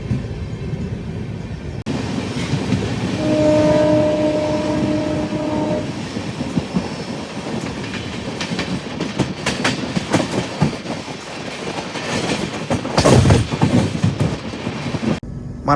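The Tirupati–Visakhapatnam double decker express stands with a shunting locomotive attached. A brief sustained horn tone sounds over a rumbling, clattering rail noise that keeps rolling and clacking at close range.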